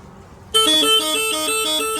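A vehicle horn sounds once, loud and close, as a single sustained steady blast lasting about a second and a half after a brief quiet lead-in, with no talk over it.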